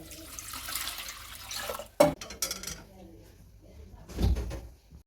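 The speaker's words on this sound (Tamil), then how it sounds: "இப்போ இன்னும் தண்ணி ஊற்றி இதில் அரைக்க போகிறோம்." Water poured into a mixer jar of ground cotton seeds, a broad splashing rush over the first two seconds, then a few sharp clinks and knocks of the jar and a soft thud near the end.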